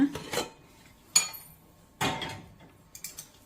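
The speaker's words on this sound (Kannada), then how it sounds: "ನಾನೀಗ ಓಪನ್ ಮಾಡ್ತಾ ಇದ್ದೀನಿ ಕುಕ್ಕರ್ನ." Several sharp metallic clanks and clatters of a pressure cooker lid being handled and lifted after three whistles, close by, with brief quiet gaps between them.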